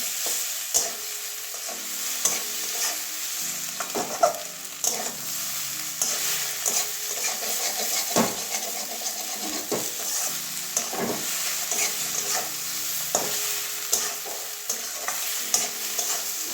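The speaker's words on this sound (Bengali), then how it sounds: "মানে ডিমটা ভালো করে কষিয়ে নেবো আবার পটলের সঙ্গে" Egg stir-fried with pointed gourd crackles and sizzles steadily in a pan, with repeated scraping and tapping strokes of a spatula throughout and no talking.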